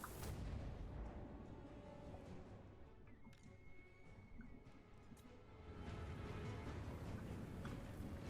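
Cannon artillery rumbles in a Total War: Warhammer 2 battle, a low, dense roar of distant booms and battlefield noise that swells again toward the end, fairly faint overall and free of talking.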